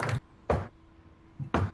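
Knocking on a breastplate during a tabletop role-playing session: two separate knocks, then a quick double knock after a pause, each dull and close, with no talking.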